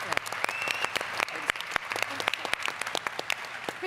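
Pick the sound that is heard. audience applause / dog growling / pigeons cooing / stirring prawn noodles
audience applause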